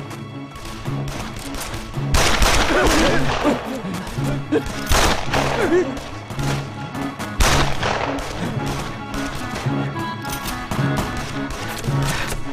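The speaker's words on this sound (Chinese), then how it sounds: "你怎么朝天开枪啊？" Gunfire in a wartime spy drama: repeated loud shots and bursts crack through a busy battle scene, mixed with crashes and a brief spoken word, spread unevenly across the whole stretch.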